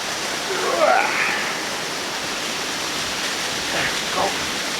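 A small waterfall in the bush in winter gives a steady, even wash of falling water, fairly close and constant, with faint brief sounds rising above it now and then.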